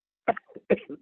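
Two short, harsh coughs in quick succession, close and fairly loud, with no talking.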